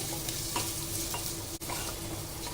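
Washed rice and whole spices frying and being stirred in a pan for khichdi, a steady close sizzle with soft scraping strokes throughout, no talking.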